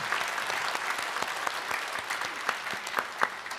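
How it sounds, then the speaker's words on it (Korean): Congregation at a Korean Sunday worship service applauds to welcome newcomers, with many hands clapping in a full, continuous burst and a few sharper claps standing out near the end. "잠깐 일어서시면 예, 박수로 환영하겠습니다."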